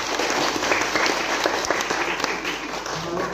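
An audience at an ecumenical revival and charity gathering with a church congregation and regional police in East Nusa Tenggara applauds: steady, dense clapping carries through the whole stretch at close, even loudness, with a voice faintly mixed underneath.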